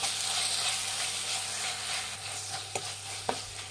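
Garlic rice is stirred in a frying pan, with a steady low sizzle underneath and a few light scrapes and taps of the spatula toward the end.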